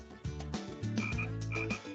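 Frog croaks come in a few separate, throaty, resonant bursts, fairly close and clear. No voices are heard in between.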